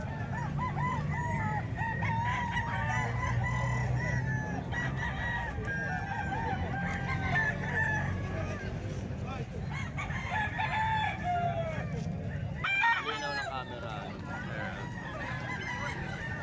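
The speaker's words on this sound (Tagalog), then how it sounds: "napakaraming manok mga bossing dito sa kalumpit" Roosters and chickens crow and cluck continuously at a crowded poultry sale in Calumpit, with goose-like honks mixed in and a noisy market din throughout.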